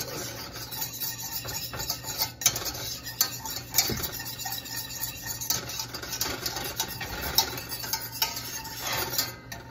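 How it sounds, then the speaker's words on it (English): A whisk stirs a warm bacon vinaigrette in a large pan off the heat, giving soft repeated scraping and light metallic clinks against the pan at close range, with no talk. "I'm going to use a whisk to incorporate that."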